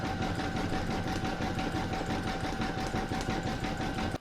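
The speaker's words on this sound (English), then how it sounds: "And lastly the satin stitch on the L," An embroidery machine stitches a satin-stitch border on an in-the-hoop letter L, a steady rapid mechanical whirr with a fast needle rhythm that runs close and loud, then stops abruptly.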